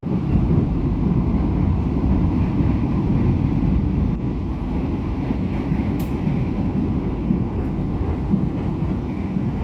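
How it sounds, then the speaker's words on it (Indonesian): A Matarmaja passenger train rolling into Weleri station, a loud continuous low rumble of wheels and carriages with wind buffeting the microphone throughout. "kereta api Matarmaja memasuki stasiun Wuleri."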